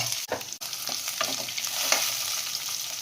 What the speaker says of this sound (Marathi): मिरची जसं फोडणी तडतड करते ना तशी मिरची पण तडतड करत असते